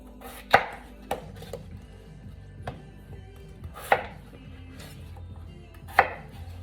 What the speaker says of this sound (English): So potato like this, I'll cut in maybe 3 slices,